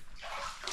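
Flood water about a foot deep sloshes across a flooded ground floor during the 2024 Chiang Mai floods, a steady close wash of splashing and swirling water with no talk.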